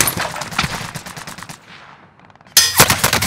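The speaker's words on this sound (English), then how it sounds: "I'm taking fire!" Incoming gunfire in the video game Warzone: loud rapid bursts of shots, a brief lull, then another sharp volley close by.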